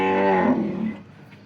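A local Banaskantha cow gives a single close, loud moo lasting about a second before trailing off.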